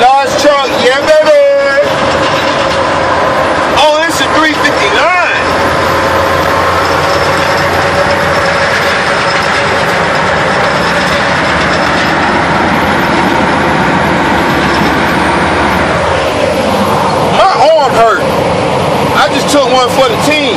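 A large semi-truck rolls past on the road, building to a loud, sustained roar of engine and rattling machinery that lasts many seconds before fading, with voices talking around it and a few mechanical clicks at the start and end.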